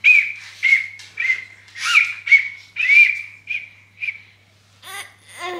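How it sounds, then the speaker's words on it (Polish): A child blows a toy whistle given by a grandmother, producing a string of about nine short, shrill toots at an uneven rhythm, close and fairly loud, followed by a couple of brief squeaky chirps. "Dostał gwizdek od babci. I umie na nim gwizdać już."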